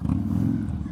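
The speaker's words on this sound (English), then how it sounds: "Just revving it every time I hear them honk their horn" A Harley-Davidson Dyna motorcycle engine rumbles loud and close in a brief, deep, throaty burst while riding at the back of a neighborhood parade.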